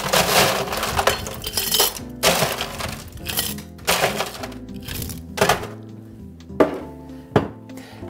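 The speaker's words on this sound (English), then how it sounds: "Fresh ice." Fresh ice cubes tumble into a chimney glass while a Singapore Sling is being made, giving several loud clattering, clinking bursts spread across the stretch with short pauses, and no talking.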